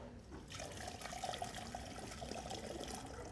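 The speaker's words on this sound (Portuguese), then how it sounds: "Vou mostrar como a água escoa" Water drains through a mosquito screen fixed over a floor drain, a steady close rushing and gurgling flow with faint dripping that continues evenly throughout.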